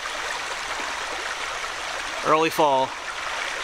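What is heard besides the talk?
small creek stream flowing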